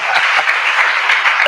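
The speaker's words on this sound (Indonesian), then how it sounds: "Berikan tepuk tangan, haleluya." A prison congregation at a Christian service in Cipinang narcotics prison, Jakarta, bursts into dense, steady applause that fills the whole moment at close range, with a few sharper individual claps standing out.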